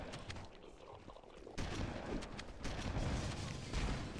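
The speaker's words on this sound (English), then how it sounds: "Oh god, that's an explosion." An explosion in the video game Halo co-op erupts as a sudden loud boom, then a sustained, dense rumble of blasts and gunfire-like crackle.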